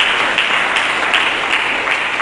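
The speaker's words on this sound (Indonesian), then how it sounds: "Mari kita berikan tepuk tangan yang meriah." Congregation applauding in a GBI Harmoni church service, a steady wash of many hands clapping with no pauses, loud and close throughout.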